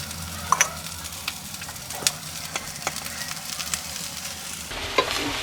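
Cooked rice being stirred into softened tomato mixture in a pan for South Indian tomato rice, with a steady low sizzle and scattered clicks and scrapes of the spoon against the pan, fairly faint and close.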